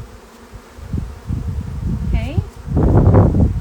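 Honeybees buzzing as a beekeeper flicks them off a hive frame into a box, with a soft insect hum, short thumps and a louder rustling burst near the end, while someone speaks briefly.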